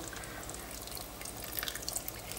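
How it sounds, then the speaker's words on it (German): About 100 ml of water trickles and splashes for cooking buckwheat, a faint, steady watery wash with a few small drips, with no talking. "noch so 100 ml Wasser zu nehmen"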